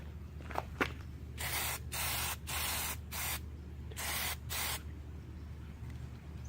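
An aerosol can of Plasti Dip sprays in several hissing bursts of about half a second each, close by, with a couple of short clicks before and quiet pauses between.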